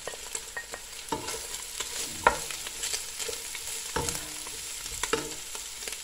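Onion and garlic sizzle steadily in hot cooking oil for pork adobo, a continuous frying hiss broken by occasional sharper crackles and utensil knocks, close and moderately loud with no talking.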